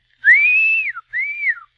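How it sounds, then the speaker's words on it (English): Two clear whistled notes, a long rising-and-falling tone followed by a shorter one, sharp and close. "I'll whistle like this."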